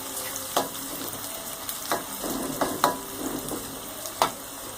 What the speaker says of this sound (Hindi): प्याज का सुनहरी रंग आने तक इसको फ्राई करेंगे।